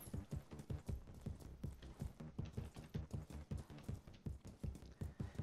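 Rapid rhythmic footsteps in the video game Resident Evil Re:Verse, a steady run of thudding steps repeating throughout at moderate loudness, with no talking.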